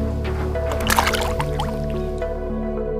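Small smallmouth bass dropped back into still lake water beside a canoe in Maine, a single brief splash and drip against a steady low hum.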